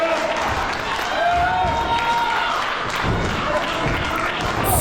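A wrestling crowd at an AIWF East Coast Championship match roars steadily throughout, a dense wash of cheering and shouting with scattered claps and thuds from the ring.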